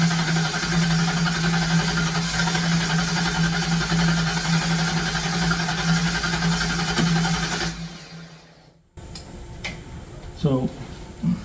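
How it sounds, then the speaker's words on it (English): A Ford Mustang Fox Body engine with bad fuel cranks steadily with a droning, rhythmic starter churn for several seconds, then cuts off abruptly, leaving quieter room sound and a short voice. "let's turn the key on and see what she does when she cranks"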